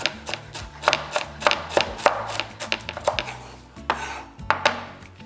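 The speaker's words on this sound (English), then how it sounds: "These ribs, as they're known, can get chopped up like this and cooked in with my sofrito." A knife chops cavolo nero ribs on a board in quick, crisp, evenly spaced cuts, loud and close, about a dozen strikes with short pauses and a faint clatter of kitchenware.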